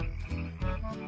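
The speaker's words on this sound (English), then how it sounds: "Now that is a western toad, and if you could hear closely, they make a little chirping noise." A western toad gives soft, repeated chirping calls outdoors, a low burbling series of short notes with no talk over it.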